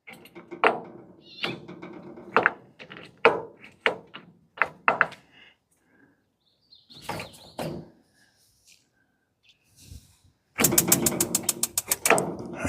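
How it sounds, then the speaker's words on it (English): A Ninja FlexFlame grill knob is turned to ignite, giving a string of sharp clicks and ratcheting snaps, a pause, then a rapid burst of igniter clicking at the end, close and alone. "We're going to turn it to ignite."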